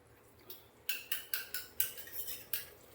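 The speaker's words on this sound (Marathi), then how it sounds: "ही चांगली मस्त जरा परतून घेऊ चांगली" A spoon or spatula strikes and scrapes a pan while tomato puree is stirred, a quick series of about eight sharp metallic taps in a loose rhythm, close and fairly quiet, with no voices.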